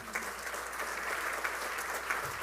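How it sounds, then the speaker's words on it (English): Audience at a community college awards dinner applauding steadily, a dense patter of clapping at moderate level with no voices over it. "thank you for clapping"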